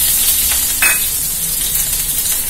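Chopped shallots sizzle and crackle steadily in a hot pan, with a couple of brief stirring scrapes, close up and without any voices.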